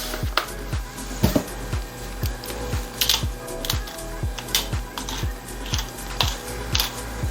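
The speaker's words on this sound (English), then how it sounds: "Fresh ground pepper." A pepper mill grinding fresh pepper onto marinating chicken cranks in a steady series of sharp, dry clicks and crunches, evenly spaced and close by, with no talking.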